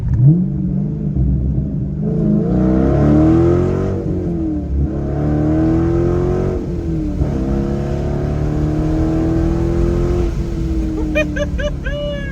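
A Dodge Challenger SRT8 V8 engine revs up loudly from inside the car in several rising pulls, its pitch climbing and dropping between shifts, with a rumbling exhaust throughout.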